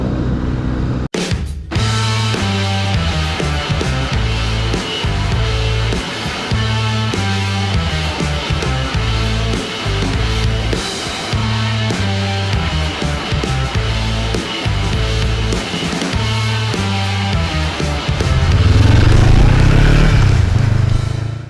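A motorcycle engine revs close by, a loud, rough rhythmic idle blipped repeatedly with throttle, swelling into a stronger run toward the end.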